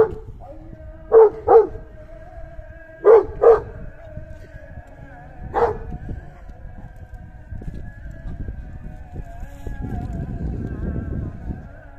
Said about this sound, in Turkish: Bu havlar.